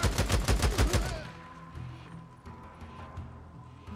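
Rapid gunfire from a weapon in the video game Days Gone, a burst of about eight loud, evenly spaced shots in the first second, followed by quieter game ambience with faint thumps.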